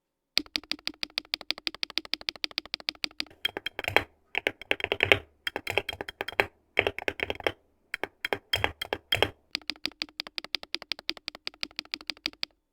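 Rapid keystrokes on a Wooting 80HE keyboard fitted with metallic keycaps, close and crisp, coming in steady bursts with short pauses between runs and no voices.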